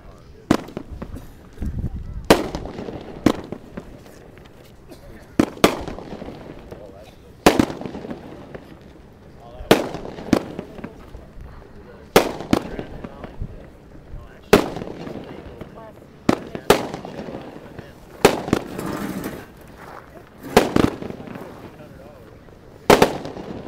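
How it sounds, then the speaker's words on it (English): Fireworks bang repeatedly at irregular intervals, sharp loud cracks echoing over a steady background rumble, with about a dozen distinct bursts. "How about them fireworks?"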